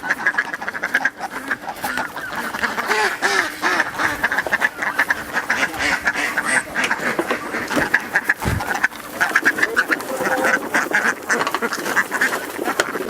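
Ducks on a mixed animal farm in Malappuram quack continuously at close range, a busy overlapping flock of about 75 birds calling in a loud, dense chorus throughout.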